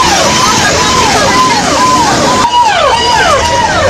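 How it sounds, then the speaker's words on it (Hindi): Fire engines arrive at schools in Delhi after a bomb threat, with a loud wailing siren sweeping up and down continuously over steady street noise and rumble. "दमकल की गाड़ियां स्कूलों तक पहुंची।"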